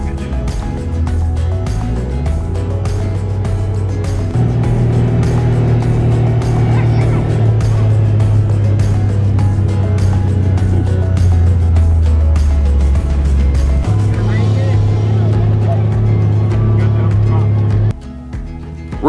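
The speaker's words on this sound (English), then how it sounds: "it was Jonah who was doing the driving in Sally." A vehicle climbing a mountain road on the way to farm chores gives a close, steady engine drone whose pitch steps up and down through the gears, then drops off near the end.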